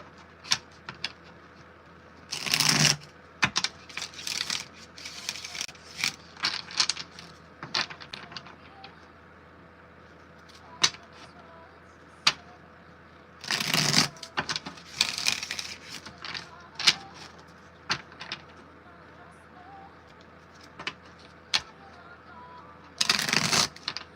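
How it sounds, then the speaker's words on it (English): A tarot deck is shuffled in repeated bursts of crisp riffling and card flutter, loud and close, separated by quieter stretches of handling and light rustling. "This fucking deck is hard to shuffle."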